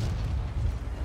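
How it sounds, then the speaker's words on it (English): A tank cannon fires in the video game World of Tanks, heard as a single loud, deep, booming blast that stays heavy and rumbling throughout the brief moment. "I'm going to try the same trick I tried earlier and shoot through the wall."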